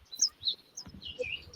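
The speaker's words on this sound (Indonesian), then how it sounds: "Tuh, merpati suaranya." A pigeon calls in short bursts of chirpy, high notes, with a few quick calls spread over a second and a half at moderate distance, heard without talk.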